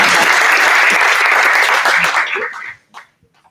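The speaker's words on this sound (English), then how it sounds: "huge round of applause to the team" An audience at a startup demo night claps loudly for a team on stage, a dense burst of applause that holds strong, then thins into a few scattered claps and falls silent near the end.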